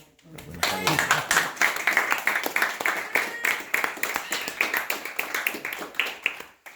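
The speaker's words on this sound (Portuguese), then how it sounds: "Eu gostaria de pedir uma salva de palmas." Audience clapping after a prayer at a family gathering, a dense burst of hand claps rising quickly and holding steady for several seconds, with voices mixed in.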